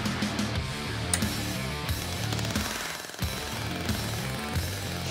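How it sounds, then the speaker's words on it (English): A rivet gun hammers a sheet metal edge over a bottom form on a 1960s Chevy, a loud, rapid, continuous rattling burst that briefly drops out near the middle before resuming close by. "taking the rivet gun and just folding that edge right over that bottom form, just like this"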